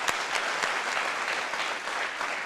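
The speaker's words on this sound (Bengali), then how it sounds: "আমরা তার জন্য জোরে তালি দিব।" An audience applauds a former press club president at a Dhaka International University event, with dense, steady clapping from many hands that stays even for a couple of seconds.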